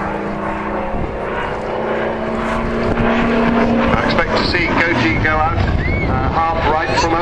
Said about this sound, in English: This was supposed to be a lightweight but very powerful radial engine fighter